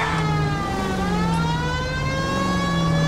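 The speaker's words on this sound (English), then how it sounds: "I forgot I had a siren." A police car siren in the video game L.A. Noire wails steadily over a constant roar of engine and traffic noise, loud and continuous, with no voices.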